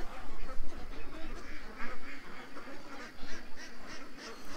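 Ducks quack repeatedly at moderate distance, a run of nasal calls clustering into rapid bursts, with some faint voices in the background.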